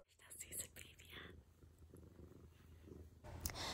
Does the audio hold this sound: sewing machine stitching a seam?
no